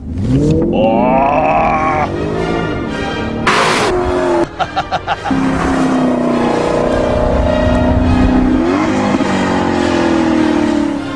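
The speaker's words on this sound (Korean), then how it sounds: "이 스포츠 버튼을 누르면 공명되는 이 음이 굉장히 커지거든요" A Maserati Quattroporte Sport GTS engine in sport mode revs and roars loudly, its pitch rising and falling with sharp crackles and pops midway, a deep resonant exhaust note throughout.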